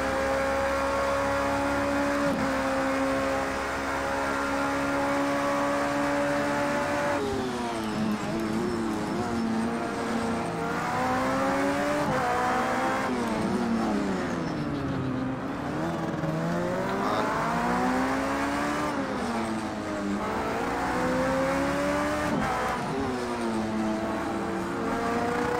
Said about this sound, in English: the traction control sounds so cool in this car